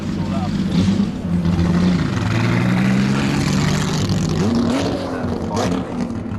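A straight-six BMW CSL touring race car growls loudly and steadily at the Goodwood Festival of Speed, its engine note rising and falling as it runs past, with a commentator talking over it.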